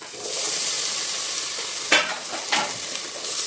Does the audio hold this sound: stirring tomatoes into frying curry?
yes